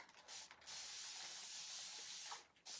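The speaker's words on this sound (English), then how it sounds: "And we're going to spray it." An aerosol spray can hisses a steady burst of Shimmer Frost onto a wooden pallet snowflake, close and continuous for about two seconds, with short pauses before and after.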